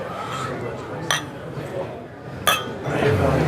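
Beer glasses clinking in a cheers toast at a tasting, two sharp, near clinks about a second apart among background chatter and table noise.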